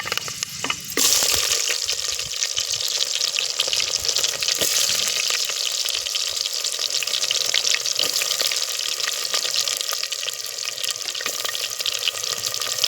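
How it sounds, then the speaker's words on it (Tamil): Chopped small onions hit hot oil with fenugreek in a pan for a village-style fish curry, giving a loud, steady broadband sizzle that runs continuously from the start with occasional stirring scrapes. "இப்போ சின்ன வெங்காயம் கட் பண்ணி வச்சுருக்கேன் சேர்த்துடலாம்"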